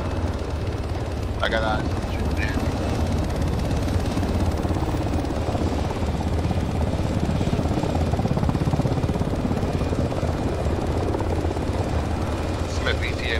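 Helicopter rotor and engine noise in a military shooter game, a steady loud drone throughout with gunfire-like bursts and someone speaking briefly over it.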